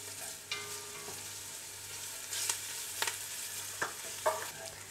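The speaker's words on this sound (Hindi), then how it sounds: "लहसुन और अदरक को हल्का सा फ्राई कर लिया है।" Ginger garlic paste frying in hot oil for chicken macaroni, a soft steady sizzle with a few scraping stirs and clinks of a utensil, with no voices.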